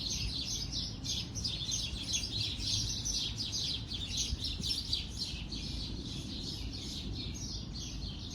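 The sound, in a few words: birds chirping outdoors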